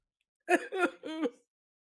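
A short burst of three harsh, throaty coughs in quick succession, close and fairly loud, followed by silence.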